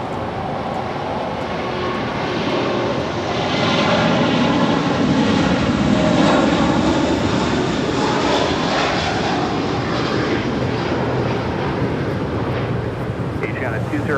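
An airliner takes off from runway 25 left at LAX. A steady, loud engine roar swells and holds for the whole stretch, and radio talk plays faintly beneath it.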